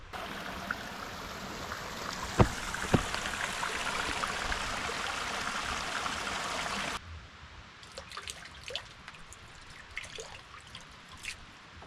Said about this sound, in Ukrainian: Ось таке джерело, я так розумію, це криниця Олекси Довбуша.